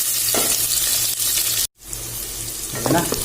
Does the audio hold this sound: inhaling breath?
no